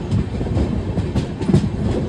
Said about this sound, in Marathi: गाईज, आता ट्रेन तर निघलेली आहे